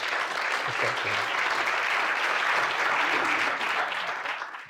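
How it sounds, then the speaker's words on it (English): A conference audience breaks into warm, dense applause to welcome two speakers onto the stage, a steady full wash of clapping that holds for several seconds and then begins to taper off. "I'd love you all to give Martin and Deerbeer a very warm, welcoming round of applause."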